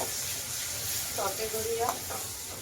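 Two medium-sized tomatoes frying in oil for a Koli-style bombil (Bombay duck) curry, giving a soft, steady sizzle with some faint stirring and a few brief tonal sounds over it.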